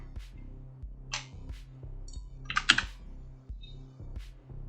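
Computer keyboard shortcut keys pressed while working in Blender, a series of close, distinct clicks and taps in an uneven rhythm, with one brief cluster of sharper clacks, no voices.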